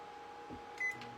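A microwave oven runs with a low, steady hum, fairly faint and close, with a brief brighter mechanical whine and rattle partway through and no talking.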